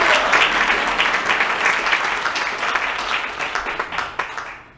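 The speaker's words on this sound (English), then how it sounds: "let's give God a hand clap of praise." A church congregation claps their hands in praise, a full burst of applause that thins out toward the end into a few louder, separate claps.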